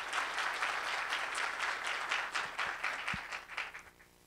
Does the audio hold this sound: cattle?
no